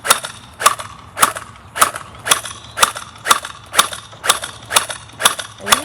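A splatter ball gel blaster fires on semi-auto, about ten sharp snapping shots spaced evenly at roughly half-second intervals, loud and close with no talking.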